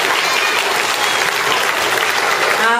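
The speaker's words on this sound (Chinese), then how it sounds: "掌声鼓励一下" An audience at a school graduation ceremony in Tainan applauds a kindergarten performance, with dense, steady clapping from many hands filling the whole stretch.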